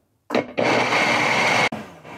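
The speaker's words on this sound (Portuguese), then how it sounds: "E agora vamos tampar o nosso liquidificador" A blender whirs loudly and steadily as it purées an oil-free seasoned mayonnaise, with a short pause partway through before the motor runs on again.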